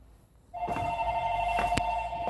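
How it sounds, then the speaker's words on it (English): A telephone rings with an incoming call, a bright electronic ring starting abruptly after a quiet half second and continuing steadily, close and alone without speech. "I got a phone call."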